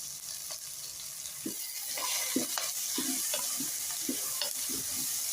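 Chopped mint leaves roasting in a hot pan for quinoa tomato bath, a steady sizzle broken by repeated scraping stirs of a spoon against the pan, fairly close and alone.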